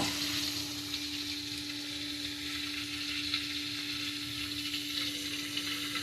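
Chili chicken tempering sizzles steadily in plenty of hot oil with chili and coriander, a loud, continuous close-up fry with a faint steady hum and no talking.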